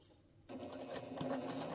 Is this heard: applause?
no